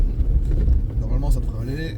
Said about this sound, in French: t'entends là, tu vois, c'est vraiment le moteur